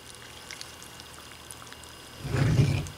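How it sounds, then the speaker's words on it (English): Milk poured onto Tres Leches Toast cereal in a bowl makes a short, close pouring gush that swells over the last second after a quiet room, with no talking. "Now let's pour the milk on."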